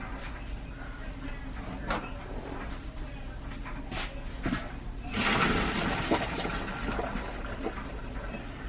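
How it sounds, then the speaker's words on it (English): Pasta being drained, water pouring out in a sudden loud rushing gush that follows quieter kitchen sounds and continues to the end. "drain all your pasta"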